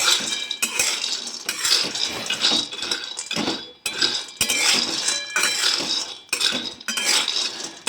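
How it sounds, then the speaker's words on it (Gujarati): Peanuts roasting in a kadai on a medium gas flame, rattling and scraping continuously against the metal with repeated stirring strokes, close and loud, with no talk. "કઢાઈની અંદર આપણે સિંગદાણા એડ કરી દઈશું હવે એને મીડિયમ ગેસે આપણે સિંગદાણાને શેકી લઈશું"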